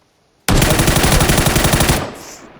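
Burst of automatic gunfire in the PUBG video game on PS5, a loud, rapid string of shots that starts abruptly, lasts about a second and a half, then drops into fading echo.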